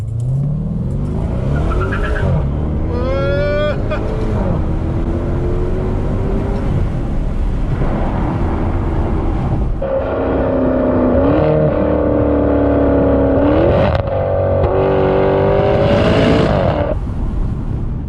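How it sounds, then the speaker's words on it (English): A Maserati Quattroporte GTS spins its tires while the engine revs hard through several gear changes, with rising engine tones and tire squeal, loud and close throughout. "the tires can spin up to first, second, and third, as I shall demonstrate in a very childish way right now"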